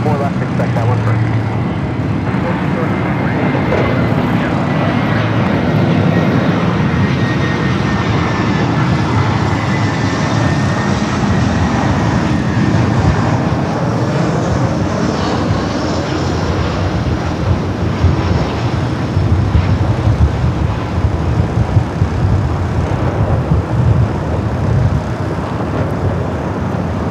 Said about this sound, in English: Right up next is that Delta A350 coming up from Shanghai.